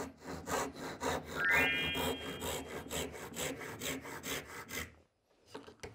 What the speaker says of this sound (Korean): 이렇게 직선으로 잘라도 되고 톱질이 자신 있으신 분들은 바로 이렇게 사선으로 잘라주셔도 되겠습니다